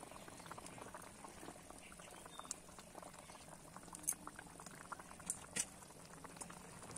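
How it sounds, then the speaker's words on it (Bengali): Katla fish curry gravy boils in a pan with steady, soft bubbling and a few louder pops, heard up close with no talk. "ঝোলটা ফুটতে শুরু করেছে"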